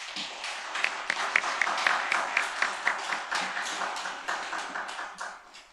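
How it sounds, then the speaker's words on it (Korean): Church congregation at a Baptist revival service gives a round of thankful applause, a moderate, steady patter of many hands heard from a middle distance in the sanctuary, fading slightly at the end. "함께 감사의 박수를 좀 드리면 좋겠습니다"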